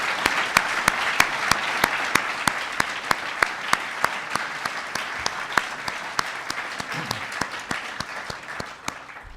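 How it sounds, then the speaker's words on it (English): Applause for students at a science and robotics education event, a small group clapping in a fairly regular, sharp rhythm, moderately close and steady for several seconds with no talk over it. "Give them a big round of applause."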